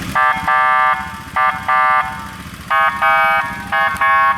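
An electronic siren on a Thai rescue rapid-response vehicle blares in repeated loud bursts with short gaps, a steady high-pitched tone cycling on and off, close and alone.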